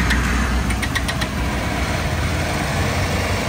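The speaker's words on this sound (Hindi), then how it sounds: "चेक करो भाई, बाइक हमारी ऑन हो गई भाई, चेक करो भाई पल्सर ऑन हो गई भाई।" A Bajaj Pulsar motorcycle engine idles steadily after a petrol and sand-contamination fix, a continuous close rumble with a few faint ticks early on and no talk.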